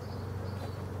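Honeybees drone in a dense, continuous hum close by at an open beehive on a warm, sunny day, with no voices.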